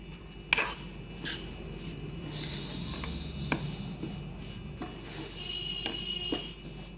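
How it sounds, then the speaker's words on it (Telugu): A spoon stirs ground fenugreek, coriander and mustard powders into hot oil for sweet avakaya, giving a few sharp metallic clinks against the pan and soft scraping between them. "ఆయిల్ హీట్ అయ్యాక అందులో మనం గ్రైండ్ చేసి పెట్టుకున్న మెంతి పొడి, ధనియాల పొడి, ఆవపిండి 3 కలిపి ఆయిల్లో వేసుకుని మిక్స్ చేసుకుందాం."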